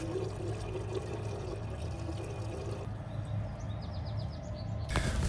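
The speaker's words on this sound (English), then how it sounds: "We'll go ahead and decant off this solution." Solution being decanted from a beaker during gold refining from trimmed RAM gold fingers, a steady liquid pour running for several seconds, close up, ending in a brief sharper splash.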